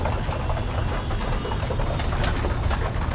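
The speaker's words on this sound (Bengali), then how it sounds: "সব কবুতর খাবার নিয়ে ব্যস্ত," Pet pigeons cooing while busy eating their feed, a dense steady chorus of soft coos and wing rustles close by, loud and continuous without talk.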